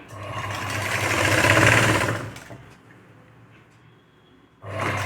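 A sewing machine runs nearby with a loud, buzzing motor hum, laying small stitches on a blouse; the run rises, fades to quiet handling noise, then starts again at the end.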